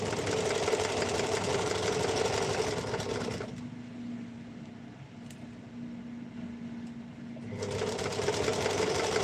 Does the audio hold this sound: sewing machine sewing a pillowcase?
yes